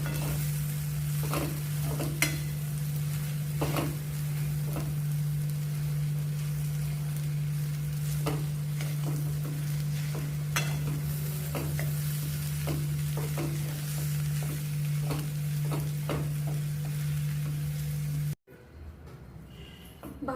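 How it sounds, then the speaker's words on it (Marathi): Potatoes are sautéed and stirred in a pan for homemade veg tikki, with a soft sizzle under a steady hum and repeated scraping stirs at an irregular rhythm before a sudden cut. "बटाटा आपल्याला चांगला परतून घ्यायचा आणि हे आपल्याला चांगले मिक्स करून घ्यायचे."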